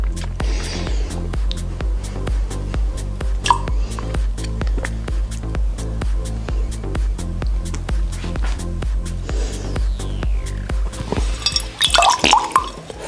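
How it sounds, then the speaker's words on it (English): Water pours and trickles out of a drinking straw, a continuous liquid splashing with drips under a steady low rhythmic backing, ending in a brighter burst of splashes. "then all that water comes running out of the straw"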